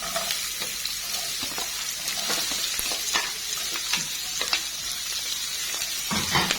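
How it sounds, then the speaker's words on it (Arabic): Two medium onions hitting two spoonfuls of hot oil in a frying pan, a steady close sizzle with crackles and occasional stirring clatter, and no talk. "اول ما يسخنوا معايا كده في قلب الطاسه انزل عليهم على طول ببصلتين اتنين كده حلوين متوسطين الحجم"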